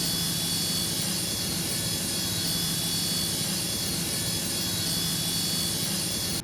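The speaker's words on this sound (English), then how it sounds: "As soon as I switch on it, you can see the rotor" A small single-rotor working model spins steadily after being switched on, producing a continuous close whirring drone with an even high whine that stays at a constant level throughout.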